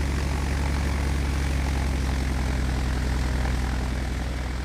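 A Beechcraft Baron twin propeller plane in Flight Simulator roars steadily at full power on its takeoff run, a loud, even engine drone with a rapid propeller throb running throughout, with no voices.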